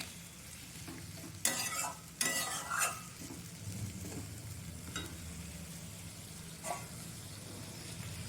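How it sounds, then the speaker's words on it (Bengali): A Bengali fish curry with cauliflower, potato and tomato cooks in a pan as a stone-ground coriander-cumin paste is stirred in. Two loud scraping bursts come early, then a steady, low sizzle and occasional stirring scrapes. "আমি শিলে বেটে রেখেছিলাম, ধনে জিরেটা দিয়ে দিলাম।"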